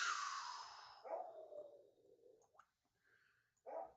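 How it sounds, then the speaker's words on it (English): A pet dog barking at home, a few sharp yelps and bark bursts spread across the moment, faint and somewhat distant, with quiet gaps between them. "This dog's barking you're going to hear for a little while"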